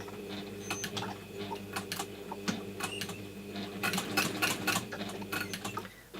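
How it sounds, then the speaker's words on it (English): A sewing machine top stitches a square on a PU trim case, a quiet, close run of rapid mechanical needle clatter in short bursts with brief pauses between them. "I'm just top stitching in a square"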